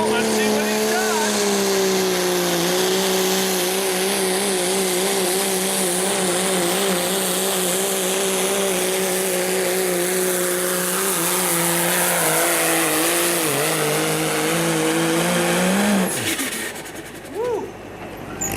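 A big Cummins diesel pickup truck roars under heavy load at a truck pull in Cedar Rapids, Iowa, with a loud sustained engine drone that holds for about fifteen seconds and then cuts off abruptly.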